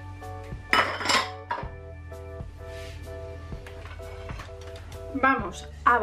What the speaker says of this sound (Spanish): vamos a batir un poquito.